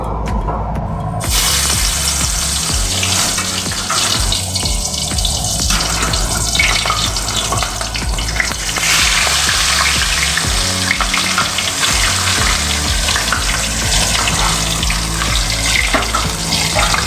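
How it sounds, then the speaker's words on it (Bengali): Aar fish pieces rubbed with salt and turmeric hit hot oil in a wok (kadai): a loud, steady frying sizzle with a watery hiss runs unbroken throughout, with no talking. "কড়াইয়ের তেল গরম হয়ে গেছে এবার আমি মাছগুলো ছেড়ে দেবো"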